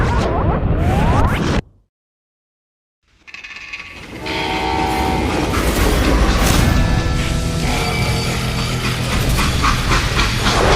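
A train in the Call of Juarez: Gunslinger video game comes in loud after a brief dead silence, rumbling and rolling with a long sustained horn blast and steady mechanical clatter throughout.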